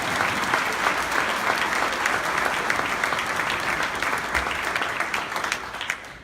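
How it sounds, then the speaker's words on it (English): Audience applause at a fishing hall of fame banquet and induction ceremony, a steady, dense clapping from a large crowd sustained throughout, fading slightly at the end. "let's give him a round of applause"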